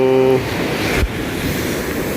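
Big waves of water rushing near a shore bank, a loud broad surge with wind noise, briefly under a voice at the start.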